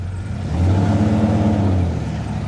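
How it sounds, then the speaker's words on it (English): A 1987 Chevrolet S10 pickup's engine revs while the truck is driven, a steady close mid-pitched drone that swells in strength about halfway through and holds there, with no voices over it. "Oh man, it feels so good driving my truck again."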